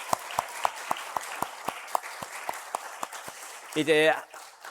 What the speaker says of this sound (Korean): 우리 축하 박수 같이 할까요?